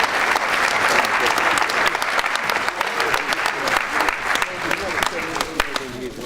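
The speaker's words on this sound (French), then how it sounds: "Des derniers applaudissements, s'il vous plaît, pour cette catégorie de cette médaille" A hall full of people claps warmly at a medal award ceremony, dense sustained applause with sharp individual claps standing out, gradually thinning toward the end with some voices underneath.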